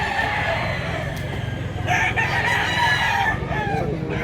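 Roosters crow and cluck at a busy poultry market in Mantalungon, Cebu, several calls overlapping at close to middle distance over a continuous murmur of the crowd.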